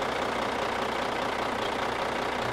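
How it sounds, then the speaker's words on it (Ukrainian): A Peterbilt truck engine idling just after being started, with its crankcase breather venting, giving a steady, dense diesel rumble that stays loud and constant, close by, with no voices. "завів Петербілда, можете бачити, як він тут сапунить"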